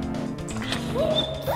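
A demon dog in a Minecraft horror mod gives a short close bark-like yelp mixed with a crashing hit, a brief loud burst over game background noise.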